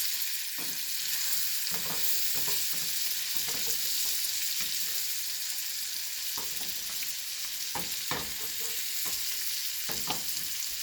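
Salmon frying in butter in a pan while being basted gives a loud, constant sizzle close up, broken by repeated spoon scrapes and taps against the pan.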